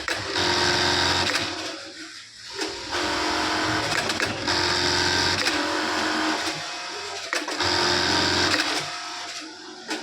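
A sewing machine runs in fast, loud bursts of rapid mechanical stitching, pausing briefly between runs, close by and steady.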